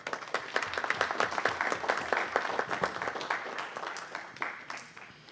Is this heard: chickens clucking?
no